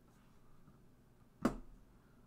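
A single sharp computer mouse click to open a file, clear and close in an otherwise quiet room, with a short low thump trailing after it.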